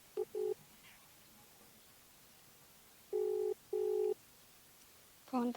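A phone call placed and ringing out: two short pairs of electronic ringback tones at a steady pitch with a pause between them, clean and fairly quiet over a faint room hiss, with no talking.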